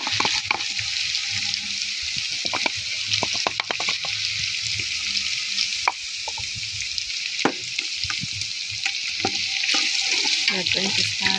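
Ground masala sizzling steadily in hot oil in a pot for pilau, with intermittent clinks and scrapes from stirring over the constant frying hiss.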